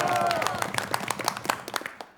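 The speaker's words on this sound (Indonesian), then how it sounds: "Saya juga mau dengar tepuk tangan yang meriah ini" Audience applause for a school team at a televised quiz competition, a brief burst of many hands clapping that thins into scattered claps as it fades.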